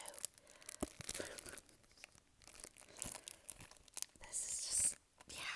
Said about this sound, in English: Very crinkly sounds.